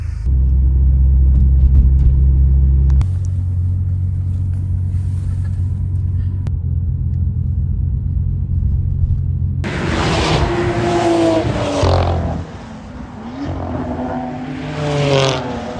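An Audi S3 on 98-octane fuel rumbles at the Nürburgring, a deep steady engine drone that drops in level partway through, then gives way to brighter rising and falling revs and road noise, with no voices.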